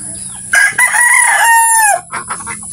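A rooster lets out one long, loud crow close by on a provincial farm in the Philippines, followed by softer clucking from chickens.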